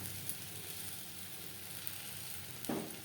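Mango pieces and jaggery cook together in a pan over a low gas flame, giving a faint, steady sizzle with a brief stir near the end.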